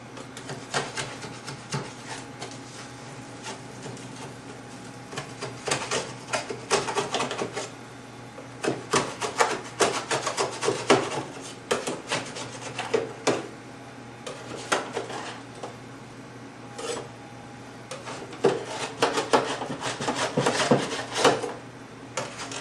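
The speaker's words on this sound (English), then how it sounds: "take a very heavy-duty metal spatula, stiff metal spatula, and we want to start to scrape it on the outside" A stiff, heavy-duty metal spatula scrapes baked cheese crust off the edges of a metal pizza pan, producing irregular scratchy rasps and clinks in uneven bursts.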